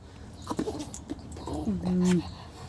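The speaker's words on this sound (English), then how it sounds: "Stop barking like a crazy dog." A dog gives a few short, close barks and a drawn-out whine, with a person talking nearby.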